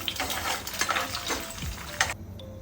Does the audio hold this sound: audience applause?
no